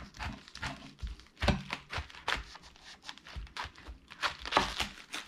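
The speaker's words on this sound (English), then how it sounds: "And now let's cut up the cabbage" Knife chopping through a cabbage on a cutting board in a home kitchen, a run of irregular crunchy cuts and tearing leaf sounds at close range, with no talk over them.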